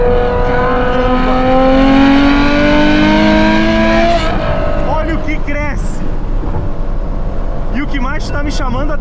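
A Ferrari F12 TDF engine revs hard and accelerates, its rising howl climbing through the gears, loud and close for the first few seconds before dropping into a steadier drone, with people talking over it.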